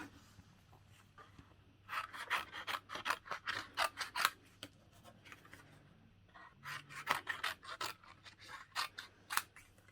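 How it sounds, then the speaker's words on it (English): Scissors snip through card in quick runs of sharp, close cuts, a cluster of clicks and crisp shears, a pause, then another burst, with the card being turned between strokes. "I tend to rotate the card whilst cutting in the same direction"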